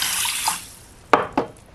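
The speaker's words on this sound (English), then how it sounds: "I'm going to add some more water." Tap water pours into an Itaki electric lunch box pot, a short splashing stream that fades, then two sharp wet clinks close by.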